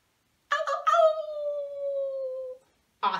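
A person's voice imitates a coyote howl: a few short yips rising into one long sliding howl that fades out, clear and close, with another brief vocal burst just after.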